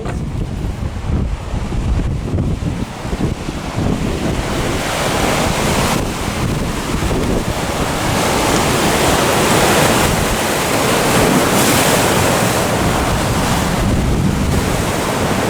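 Ocean waves surging and wind buffeting the microphone at Rialto Beach, Washington, a loud, continuous broadband roar that swells and stays heavy throughout, with no voices.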